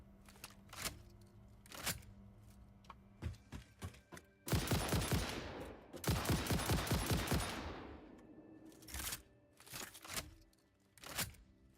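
A rifle fires in bursts in the video game Satisfactory: sharp single shots at first, then two sustained rapid volleys, then a few scattered shots again, with clicks and quiet gaps in between.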